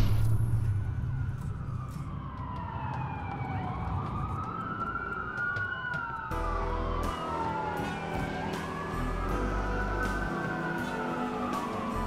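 Police sirens wail during a chase in the video game Watch Dogs, several overlapping rising and falling tones sweeping continuously over engine rumble, loud and steady throughout with no talk.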